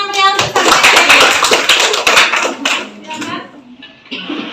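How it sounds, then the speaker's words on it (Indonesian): Students in a high school classroom clap their hands together, a dense burst of applause that thins out after a few seconds, with voices speaking alongside. "tepuk tangan yang meriah untuk Sabia CS"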